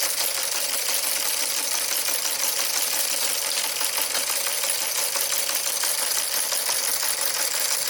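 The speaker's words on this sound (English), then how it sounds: "Now if we fire up the motor on the Teletype and run it again" A Model 15 Teletype printer running under motor power, producing a loud, steady mechanical clatter of rapid typebar strikes and whirring that continues without pause and with no voices.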